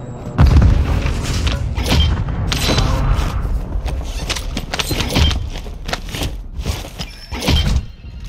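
A planted mine blows up in Call of Duty Warzone 2, a loud close boom early on followed by rumbling debris and further thuds and blasts amid ongoing battle noise.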